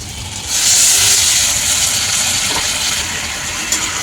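Water poured into hot spiced potato masala in a pan, bursting into a loud steamy hiss that holds steady and slowly settles over a few seconds.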